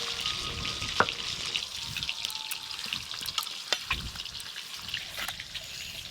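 Snakehead fish fry in a pan, a continuous sizzle scattered with sharp pops and crackles of spitting oil, close and fairly quiet, with no speech.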